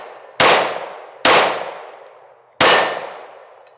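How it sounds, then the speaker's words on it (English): Three sharp gunshots from a Shield Plus Carry Comp pistol crack out at uneven intervals, each loud and close, followed by a short decaying ring and echo. "All right, first few shots."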